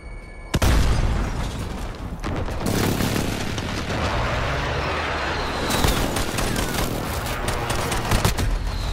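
Rapid gunfire and explosive booms from Call of Duty: Modern Warfare multiplayer, a loud sustained fusillade starting with a sharp blast and continuing densely with occasional bursts, a voice faintly under the battle.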